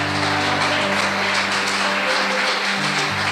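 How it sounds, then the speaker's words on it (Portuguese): A church congregation claps loudly and steadily for about three seconds, a dense wash of applause with a low sustained musical drone underneath. "Vamos aplaudir o nome do Senhor bem forte"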